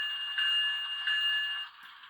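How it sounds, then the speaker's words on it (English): A model locomotive sound decoder in an Athearn Genesis ES44AC rings its bell, a steady bright metallic ringing with a couple of stronger strikes, close and clear, fading out near the end with no talking. "So we got the bell."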